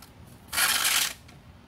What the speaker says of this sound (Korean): 이게 비닐이 조금 시끄러워요.